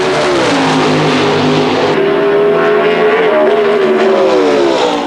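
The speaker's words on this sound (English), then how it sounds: "The first leave will go to the dragster of Michael Udding. Yes, and he's off and away." A drag-racing dragster roars off the line and pulls hard down the strip, a loud, sustained engine howl whose pitch climbs and shifts as it accelerates through several gear-like steps, heard without talk.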